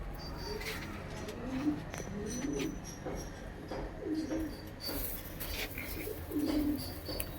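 Pigeons of a long-faced Madrasi breed coo repeatedly in low, rolling phrases, close by and fairly loud, with faint chatter and background noise around them.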